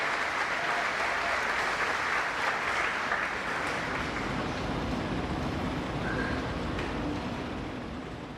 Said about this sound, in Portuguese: Então aplauda ao Senhor bem forte